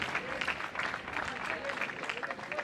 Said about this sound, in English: She got the oohs and ahs from the crowd on that one